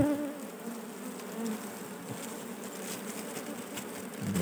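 A swarm of honeybees hums steadily and densely throughout, a close, continuous buzz of many wings during hive collection from wax comb, with no talk.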